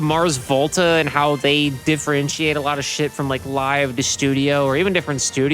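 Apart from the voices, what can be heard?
None of the usual background noises is heard.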